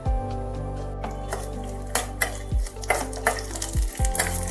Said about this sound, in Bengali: একটু ভালোভাবে কাজু বাদামটা, মশলাটা আর কারি পাতাটা ফ্রাই করে নিতে হবে।